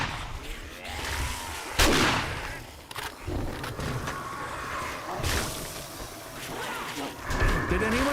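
A demolisher zombie blows up in the 7 Days to Die video game, giving a loud, booming blast with rumbling low-end crashes and scattered heavy impacts amid ongoing game noise.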